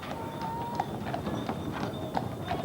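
Horses' hooves clip-clop on a street in an English town, a quick run of crisp, fairly close hoof strikes repeating over a continuous background murmur.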